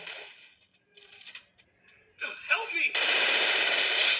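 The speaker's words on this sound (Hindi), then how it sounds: "पीछे से आता है फायरिंग का साउंड" Rapid gunfire bursts from the mobile battle royale game Free Fire MAX, loud and sustained in the second half after softer game sounds and brief effects.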